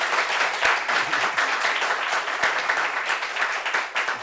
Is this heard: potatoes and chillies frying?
no